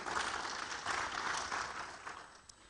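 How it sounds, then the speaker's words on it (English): Audience at a foundational learning conference applauding, a broad, even wash of clapping from many hands that thins toward the end. "Shall we do a big round of applause?"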